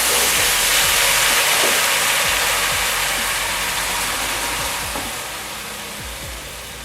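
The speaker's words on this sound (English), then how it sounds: "Now I'm going to let the Masala wine reduce in half" Marsala wine reducing in a pan over high heat, a steady, close bubbling sizzle and hiss that slowly eases toward the end, with a few light clinks.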